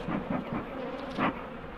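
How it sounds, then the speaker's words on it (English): A low, droning buzz of angry honeybees swarming close by at their hives, pulsing unevenly with a steady hum underneath. "them bees are proper pissed off"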